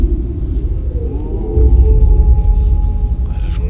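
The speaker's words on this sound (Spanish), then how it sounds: "Es un puto lobo, tío." A wolf howls in a forest in the video game ArmA 3, a long drawn-out tonal wail rising and holding over low rumbling ambience, fairly loud with no speech.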